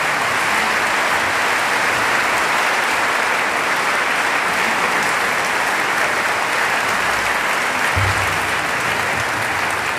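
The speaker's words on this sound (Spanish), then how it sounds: "Ese fuerte aplauso para ellos también." A large audience at a charity event in Cartagena gives loud, sustained applause, a thick unbroken roar of clapping that holds at full strength for about ten seconds.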